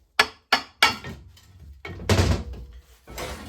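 A hammer taps an NV4500 transmission case to free the dowel pins: three sharp, close blows in quick succession, then heavier thuds and a rumbling clunk as the metal shifts.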